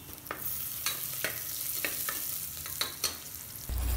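A moong dal mixture with turmeric fries in a pan under a soft, continuous sizzle, while a spoon stirs and scrapes it in regular strokes about every half second.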